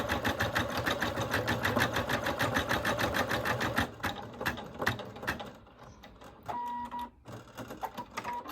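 An embroidery machine stitches lime green thread onto a patch with a fast, even mechanical rattle of needle strokes. The stitching stops partway through, leaving irregular clicks and whirring motor sounds, close and fairly loud, with nobody talking.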